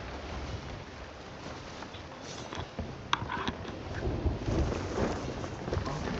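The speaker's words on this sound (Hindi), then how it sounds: "अरे तूफान यहां पर क्यों है" A Sea of Thieves video game thunderstorm builds with steady rain hiss and deep rumbling, a sharp crack partway through, then rolling thunder that swells louder toward the end. No voices.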